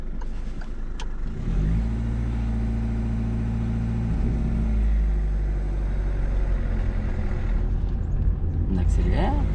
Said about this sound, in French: On accélère. Je lâche l'embrayage. On accélère un peu, oui.